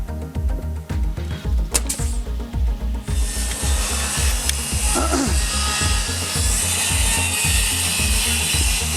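A power saw cuts Smart siding along a chalk line during a barn wall raising, starting with rhythmic rasping strokes and settling into a continuous loud, close cutting whine.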